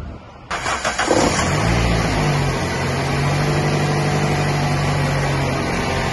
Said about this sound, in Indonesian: Sekarang kita akan coba bunyikan ya starter ya.